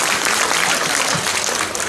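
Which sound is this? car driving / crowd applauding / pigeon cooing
crowd applauding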